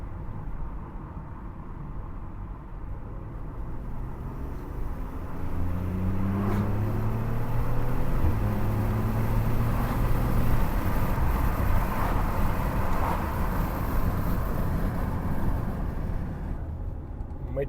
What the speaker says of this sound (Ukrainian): як працює вихлоп з відкритим вікном.